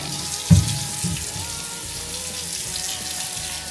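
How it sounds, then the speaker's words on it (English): Tap water running over sweet potatoes in a kitchen sink, a steady close splashing stream that starts with a sharp splash and keeps flowing evenly, no voices. "we're going to wash our sweet potatoes."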